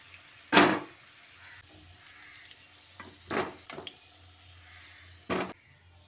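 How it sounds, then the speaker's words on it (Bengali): Potatoes frying in hot oil for Bengali aloor dum give three short bursts of sizzle and stirring, close and fairly soft, with quiet stretches in between. "লালচে রং ধরিয়ে আলুটাকে ভেজে নিতে হবে।"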